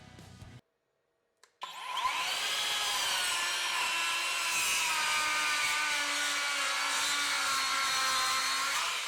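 A SKILSAW 48V worm drive circular saw spins up after a short silence and cuts through wood with a sustained loud, whining buzz, close by.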